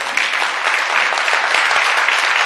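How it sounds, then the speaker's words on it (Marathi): Audience at a Women's Day financial literacy event in Akot claps loudly together, a dense, steady burst of applause filling the room with no voices over it. "तर आपल्या स्वतःसाठी एकदा जोरदार टाळ्या वाजवून घेऊ."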